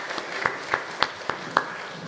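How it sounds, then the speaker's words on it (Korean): A church congregation claps in praise during a Sunday worship service; about six distinct sharp claps land at a fairly steady pace over a quiet background of room murmur. "하나님께 영광의 박수 드립니다."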